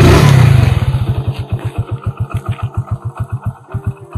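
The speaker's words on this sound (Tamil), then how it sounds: "அப்படியே வண்டி ஸ்டார்ட் பண்ணுறேன்," A Hero Splendor Plus motorcycle engine starts with a loud burst, then settles into a steady, close thumping idle with even, rapid exhaust pulses. No voices.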